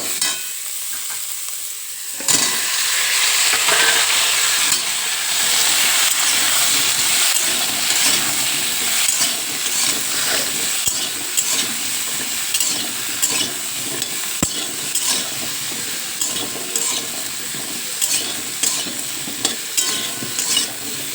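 Amaranth stems tossed into a hot pan for a vegetarian sour dish, a sudden burst of loud hissing sizzle after a quiet start that keeps up steadily with faint stirring clicks.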